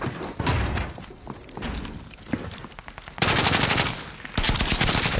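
Rapid automatic gunfire rattles in a video game, with bursts of machine-gun fire and heavy thuds repeating loudly throughout.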